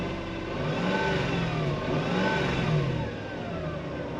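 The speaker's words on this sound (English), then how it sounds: "That's the gearbox if you guys hear anything right now." A Mercedes M119 V8 engine hums steadily at idle with a rising and falling mechanical gearbox whine, close and continuous, no voices.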